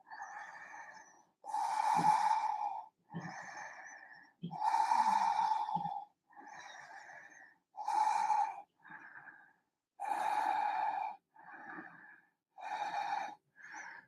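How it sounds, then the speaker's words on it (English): Long, deep yoga breaths, about a dozen slow inhales and exhales in a regular rhythm with short silent gaps, close and clear, no talking. "Nice, long, deep breaths."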